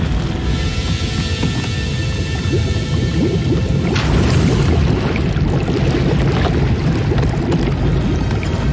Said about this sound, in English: A boat caught in rough seas?